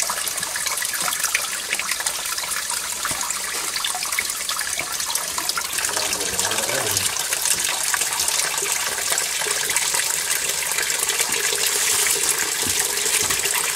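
Water gushes and splashes out of a drain line being flushed of iron ochre clumps, a continuous rushing flow that surges in the middle and carries on strongly, with no voices over it.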